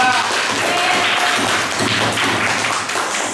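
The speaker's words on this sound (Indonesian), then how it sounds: "beri tepuk tangan ke kelompok 2" A classroom group applauds another group of students, a loud, busy patter of clapping hands with some thumping taps mixed in, sustained for a few seconds.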